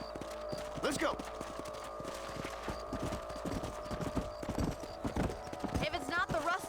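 Horse hooves clip-clop in a steady trotting rhythm in the Western game Red Dead Redemption, close and clear over a constant background bed, with a whinny and a voice talking at moments.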